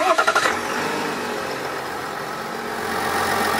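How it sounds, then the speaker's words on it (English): A 2020 Chevy diesel truck engine cranks with a quick rhythmic starter chatter, catches, and settles into a steady, fairly quiet idle that swells slightly near the end, close by with no talk. "let's crank up this motor and let's talk about the horsepower and the torque"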